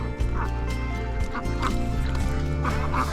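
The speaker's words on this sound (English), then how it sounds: "Ducks are playing in the mud." Farm ducks playing in the mud while eating scraps from cleanup give repeated quacks and clucking calls, close by and fairly loud over steady background noise.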